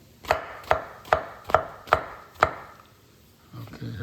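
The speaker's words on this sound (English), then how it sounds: "And now it's time for me to chop the mushrooms." Six sharp, evenly paced knife chops cut through mushrooms on a board, loud and close. Quiet follows, then a soft low shuffle at the end.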